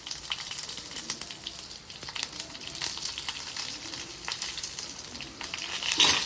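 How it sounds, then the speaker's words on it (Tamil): Gentle sizzling of onions frying in a pan, a soft continuous crackle with occasional stirring scrapes and a brief louder clatter near the end. "வெங்காயத்தை வட்டி போட்டுட்டு நல்லா வதக்கணும் வடிவாக பொரியணும்"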